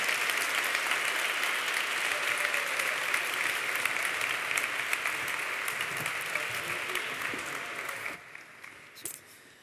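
Sustained applause from a large audience at a university graduation ceremony, dense and steady, fading slightly before tapering off near the end.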